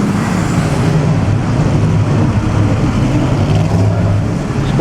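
Vintage museum race car at the Mille Miglia with its engine running, a loud, continuous deep mechanical growl and rumble that holds steady throughout amid a general outdoor wash.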